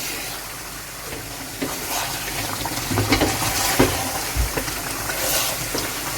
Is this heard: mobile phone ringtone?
no